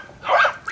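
A single dog bark rings out at middle distance, short and moderately loud against a quiet background, recorded outdoors during a Thai meal of spicy salmon salad.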